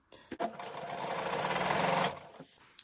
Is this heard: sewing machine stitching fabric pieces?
yes